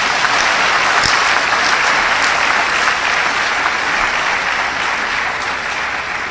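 Round of applause from the audience at the launch of the 2024 financial year audits, loud sustained clapping filling the room, fairly even and tapering only slightly toward the close.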